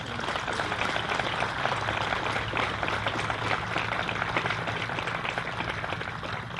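Applause from a crowd at a Marine Corps change of command ceremony, a sustained dense clapping that holds steady at moderate loudness for several seconds, heard alone without talk over it.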